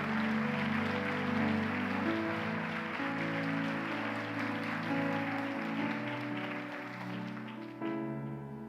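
Congregation applauding in church during an evangelical sermon, a steady, dense wash of clapping throughout, mixed with sustained music underneath, fading slightly near the end.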